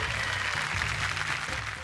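An audience at a televised women's game show breaks into steady applause, a dense wash of clapping with a low hum of music beneath it.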